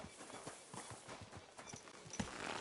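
Horse hooves clip-clopping at a steady walking rhythm in the video game Kingdom Come Deliverance II, fairly quiet and close, with faint ambient outdoor game sound underneath.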